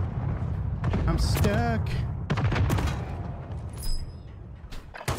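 Gunfire and mortar blasts in a Call of Duty match crackle in dense bursts under and between players' voice chat, with loud thumps and rattling shots spread across the moment.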